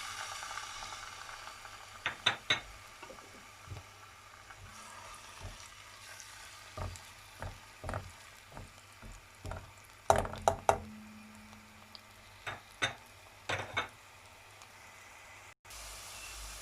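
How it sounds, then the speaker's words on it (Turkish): A steady sizzle of grated onions frying in oil runs throughout, broken by repeated clinks and scrapes of a spoon stirring in a pot, close and moderately quiet. "Şimdi tenceremize yağ koyup soğanlarımızı koymakla işe başlıyoruz"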